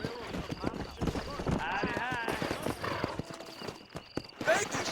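Horse hooves clip-clop in the video game Red Dead Redemption, a steady rhythmic trotting under game voices talking and a busy background.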